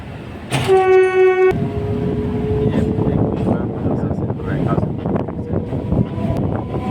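A passenger train on the route from Old Delhi to Shamli sounds a loud, tonal horn blast, then rumbles on with steady wheel and carriage clatter, heard from on board with a person talking over it.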